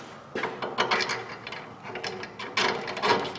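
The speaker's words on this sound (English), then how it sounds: "once you snug up your U-bolts, go through, torque them to spec." Ratchet wrench snugging up the U-bolts on the rear leaf spring of a Chevrolet/GMC 1500 pickup, quick bursts of sharp clicking pawl strokes, close and loud, with no talk.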